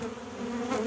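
Honeybees hum at a beehive during an early-season hive check, a close, steady droning buzz with a clear pitched tone, heard alone in a short snippet.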